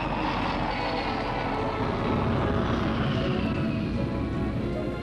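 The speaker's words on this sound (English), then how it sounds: "the big plane is airborne" A loud, continuous roar of a VC10 jet airliner's engines drones steadily as it climbs airborne, a broad rushing rumble with no voices.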